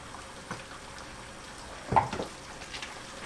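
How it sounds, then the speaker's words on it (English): Faint, low bubbling and hissing of water at a boil in a pot for udon noodles, with a slightly louder gurgle partway through; otherwise quiet and steady. "my pot of water is boiling now"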